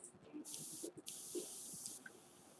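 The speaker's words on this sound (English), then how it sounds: "it sprays a hell of a lot better, because I got a, this nozzle and this airbrush is just a 2 millimeter nozzle." Airbrush with a 2 mm nozzle spraying paint heavily thinned with reducer, several drops of reducer to each drop of paint: close, steady hissing bursts, one break near the midpoint, then a final cutoff.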